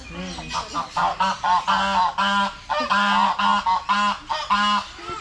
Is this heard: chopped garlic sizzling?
no